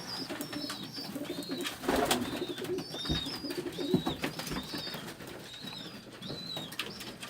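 Tajik pigeons in Dushanbe coo in repeated soft phrases, with bursts of wing flapping around two and four seconds, over a steady outdoor background of calls and flutter.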